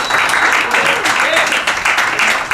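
Audience clapping at a comedy show in Washington DC, a dense burst of applause from a room crowd with a voice speaking over it at points.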